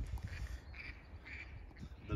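Ducks quack at a golf course in faint, distant, repeated calls over a quiet outdoor background.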